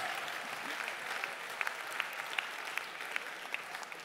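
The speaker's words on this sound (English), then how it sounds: "Give her a round of applause" An audience applauds steadily, many hands clapping in a continuous patter with a few sharper claps standing out.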